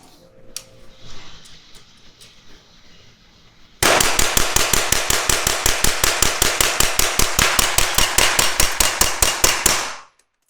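Suppressed rifle firing 115 grain Norma supersonic ammunition in a rapid, even burst of about thirty sharp cracks lasting six seconds, loud and close, after a quieter stretch of faint clicks and handling noise.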